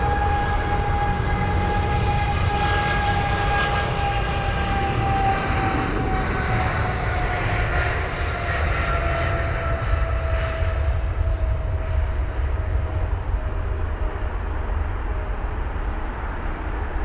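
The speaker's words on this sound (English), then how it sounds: "Now that there is flight number BA213 for the British Airways 777-200 ER heading to Boston" A British Airways Boeing 777-200ER, flight BA213 to Boston, rumbles past at Heathrow with a loud, continuous engine roar and a steady tonal whine that slowly drops in pitch as it passes.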